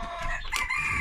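A broody bantam hen gives a short, close, throaty cluck-and-call burst in a backyard, loud and alone for about a second.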